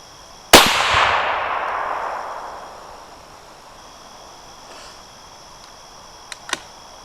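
.308 rifle firing a 168-grain BTHP match bullet outdoors: one sharp, loud crack with a long rolling echo that fades over about two seconds, followed by quiet and a couple of faint ticks.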